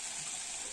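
Water poured into a pot of cooking goat meat, a short, steady gushing hiss heard close up on its own.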